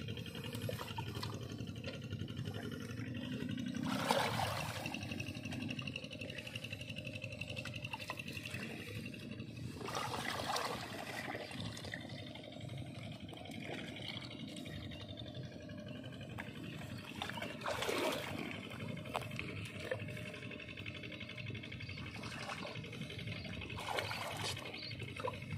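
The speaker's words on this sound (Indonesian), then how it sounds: "Setelah itu, setelah dipupuk, batangnya kita siram air" Water poured onto the stems of fertilized melon plants, faint trickling and splashing that comes in intermittent gushes over a steady outdoor background.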